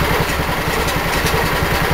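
A snow blower engine idles at about 1200 RPM, a loud close, steady rapid chugging putter with an even pulsing beat throughout, no voices.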